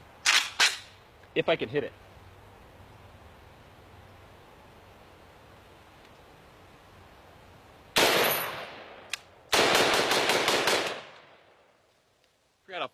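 An AK pistol fires 7.62x39 full metal jacket rounds outdoors: a single shot, then a quick pair, then after a pause a burst of rapid shots and a string of six or so loud reports, with brief speech near the start.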